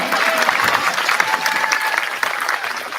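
Applause from an audience at a school culmination ceremony, a steady wash of clapping throughout that stays fairly loud and close, with no pauses.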